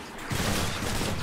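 Weapon reload sound in the action video game Hades, a dense burst of metallic mechanical clatter and rattling lasting about a second, loud and close with no voices.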